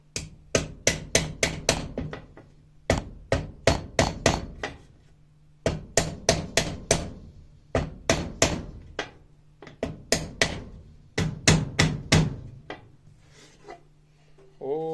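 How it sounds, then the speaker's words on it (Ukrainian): A small hammer taps wooden parts of a flower stand being assembled, in quick bursts of sharp knocks, four to six strikes per burst, repeated steadily with short pauses between. "І отакий молоточок."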